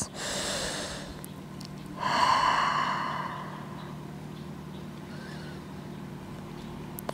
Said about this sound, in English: rest your forehead on the mat, taking three more deep breaths